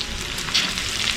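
Curry leaves spit and sizzle in hot oil alongside ginger, garlic, green chilli and shallots, a loud close hiss with a sharp flare of crackling midway.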